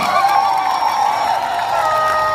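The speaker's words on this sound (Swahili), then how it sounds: "Hebu mjipigie makofi." Political rally crowd in Kisii, Kenya, cheering and clapping in a continuous, energetic roar with scattered whoops, steady and loud from start to finish.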